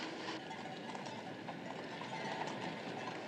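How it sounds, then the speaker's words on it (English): A horse pulling a wagon along a pedestrian way clip-clops in a steady, even rhythm, heard continuously at moderate distance with no talking over it. "there's a horse and wagon on the pedestrian way"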